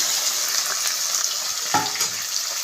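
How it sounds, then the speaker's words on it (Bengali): Shrimp sizzle and crackle in hot mustard oil in a pan on a gas stove, a steady close frying hiss with a few sharper pops and stirring sounds. "তেলটা গরম হয়ে গেছে, দিয়ে দেবো চিংড়ি মাছ।"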